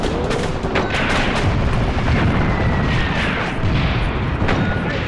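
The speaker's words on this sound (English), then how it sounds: "they're back with that damn artillery" Artillery fire in the WW2 game Graviteam Tactics: Mius Front, set on a foggy battlefield: loud, continuous rumbling booms and distant blasts overlap with scattered sharper cracks throughout.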